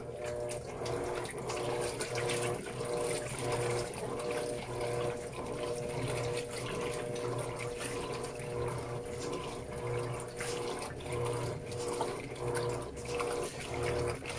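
Water pouring steadily into an Electrolux LES-series top-loading washing machine loaded with towels, a continuous even rush and splash from start to finish with no talk.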